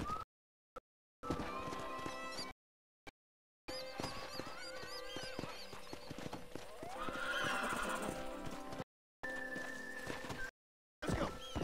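A horse in Red Dead Redemption 2 clip-clops along with steady hoofbeats and whinnies, heard in several stretches broken by short silent gaps, with game music and ambient sounds around it.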